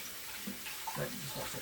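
Water runs from a kitchen tap to soak a dirty dish after air-fried Japanese-style chicken, a soft steady splash heard close and alone at a low level.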